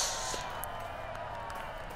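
A crowd gathered for the Queen's appearance in the video game Fable III cheers and murmurs as a faint, diffuse wash of voices, steady and distant.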